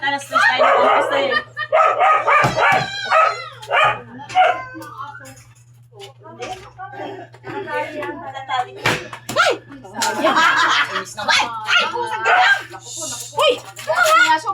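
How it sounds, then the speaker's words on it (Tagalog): A dog barks in short, repeated yaps while people talk loudly and close by, the barks scattered among the voices over a steady low hum. "May aso, may aso."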